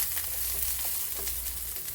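Onion fries in extra virgin olive oil in a pan, making a steady, close sizzle with faint crackles and no talking.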